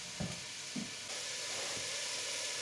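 Onions gently sweating in a pan for couscous give a soft, steady sizzle with a couple of faint stirring knocks early on, then an even low hiss.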